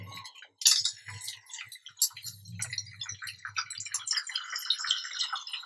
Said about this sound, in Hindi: और नमक वाला पानी डाल देते हैं।